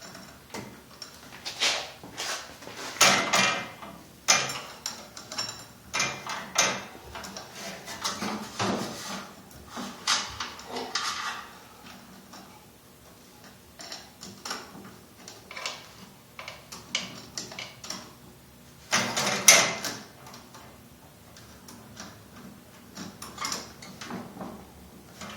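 Irregular metallic ticks, clinks and rattles from a chain being fed down and worked around the sprocket of a cyclekart in a workshop, close and fairly loud, with a dense burst of clatter near the end.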